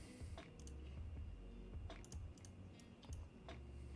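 Keyboard typing at a computer, with irregular clicks and short bursts of keystrokes. The taps are moderately quiet over a low background hum.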